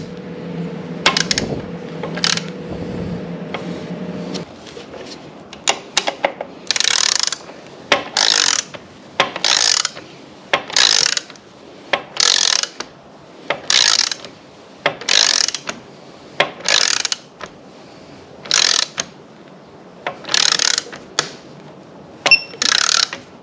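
A ratchet wrench clicks in repeated short bursts while tightening the clamp on an Akrapovic exhaust link pipe fitted to a Ducati Monster 821, each pawl rattle close and crisp with brief pauses between strokes.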